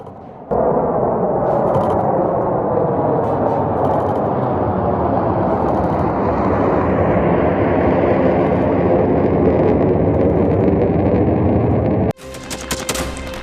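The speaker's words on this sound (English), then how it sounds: "The B-21 Raider has taken its first flight." A B-21 Raider stealth bomber in flight gives a loud, steady, broad roar that holds for about twelve seconds, then cuts off abruptly into a harsher burst of noise.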